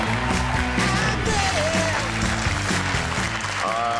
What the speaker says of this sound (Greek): ένα δυνατό χειροκρότημα για τις κοριτσάρες του Power of Love